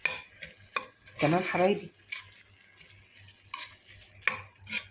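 Minced meat with spices frying in a pan sizzles quietly with intermittent stirring scrapes, while a voice speaks briefly over it.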